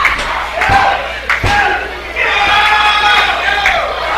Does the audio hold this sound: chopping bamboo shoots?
no